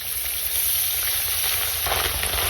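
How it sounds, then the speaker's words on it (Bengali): Rice frying in hot ghee in a wok gives a loud, continuous sizzle up close, with a brief stirring scrape near the end. "এবার আমি এখান থেকে রাইসগুলো দিয়ে দেবো ঘির মধ্যে"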